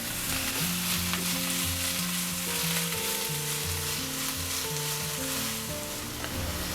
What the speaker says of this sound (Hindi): अब इसमें हम कटा हुआ पालक 1 कप डालेंगे। मिक्स करेंगे और 2 मिनट पकाएंगे।